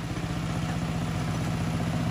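A walking tractor engine chugs steadily on a rural road in Laos, a close, even clattering putter with a continuous mechanical rattle and no voices.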